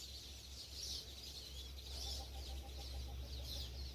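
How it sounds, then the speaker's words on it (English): A bird calls near farm woodland, a faint series of quick repeated chirps over a low steady background hum, with other soft bird sounds in the distance. "I don't know if you heard that bird. I've never heard that bird before."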